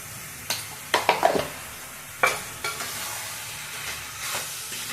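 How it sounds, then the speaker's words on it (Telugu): Chicken curry in a pot, half a kilo of chicken simmering in a little oil, is stirred in a series of distinct scraping strokes over a soft sizzle, a cluster early and a few more spread out. "బాగా కలిపి మూత పెట్టాను."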